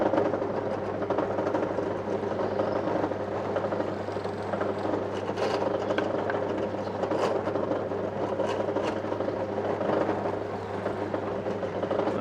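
Drill bit countersinking and enlarging a screw hole in a workshop, a continuous loud motor whir with grinding texture that holds steady throughout, close and with no talking.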